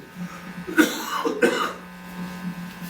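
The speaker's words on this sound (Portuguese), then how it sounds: "eu estou com uma tosse terrível" Two sharp coughs from one person close by, a short pause between them, over a low steady hum.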